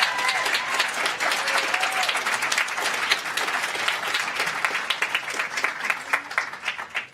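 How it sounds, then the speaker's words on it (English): Sustained applause fills an auditorium as an audience claps for a panel on stage at a health forum, a dense, steady wash of many hands from start to finish, with faint voices mixed in. "I think we can do a better round of applause for this group on stage."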